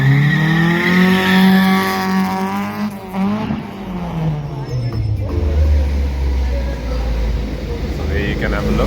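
A 1.4-litre 16-valve engine with individual throttle bodies and big pistons runs on a dyno, loud and close, its revs climbing, dipping and then settling into a deep, steady drone.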